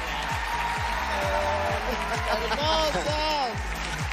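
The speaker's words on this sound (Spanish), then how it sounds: "Fuerte el aplauso" Audience at a Got Talent Argentina 2023 broadcast applauding a performing duo: moderate, steady clapping fills the hall while a host speaks briefly over it.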